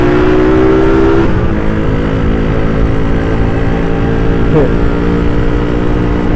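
Motorcycles riding on the road during a Sunday morning group ride, including a black Satria FU with aftermarket exhaust, a loud steady engine drone close by with shifting pitch as revs change.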